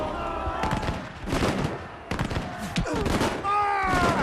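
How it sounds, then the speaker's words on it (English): Musket volleys exchanged at the Battle of Waterloo, several crackling shots and bursts spread through the clip over a dense battle din with tonal music or shouts. "the first shots are exchanged."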